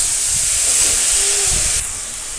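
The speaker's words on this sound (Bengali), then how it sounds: "একটু নাড়াচাড়া করে নেব।" A potato and pointed gourd curry with mixed fish hisses and sizzles steadily in a pan as it is stirred, the sizzle dropping slightly quieter toward the end.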